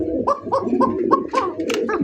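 A female pigeon coos nearby in a quick, repeating rhythm of soft throaty calls, several in succession over a couple of seconds.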